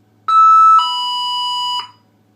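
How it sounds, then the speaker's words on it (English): Menvier M800 alarm system chime tone: a clean electronic two-note chime, a short higher tone then a longer lower one, ending in a brief click, loud and alone in a quiet room. "Chime's different."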